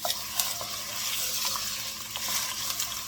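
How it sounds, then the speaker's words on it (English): Onions and celery sauté in a soup pot for a ham and vegetable soup, a steady close sizzle with a few light stirring scrapes and clinks running through the whole stretch. "now we are going to start with adding our onions and our celery at this"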